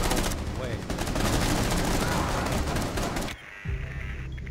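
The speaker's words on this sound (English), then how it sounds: "he's shooting across the whole way." Rapid bursts of automatic gunfire in the video game Rainbow Six Siege, loud and dense for about three seconds before cutting off abruptly into quieter game sounds.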